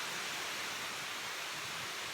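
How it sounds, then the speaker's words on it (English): A huge water wall fountain in Houston roars loud and close, a steady broadband rush of falling water with no letup. "Super cool water wall."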